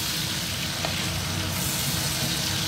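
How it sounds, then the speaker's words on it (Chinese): Small chillies stir-frying in a wok of hot oil with garlic, a loud, dense continuous sizzle heard up close with no talking. "然后把小辣椒下锅炒香。"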